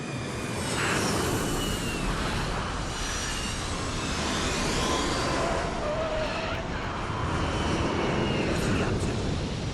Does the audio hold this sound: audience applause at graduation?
no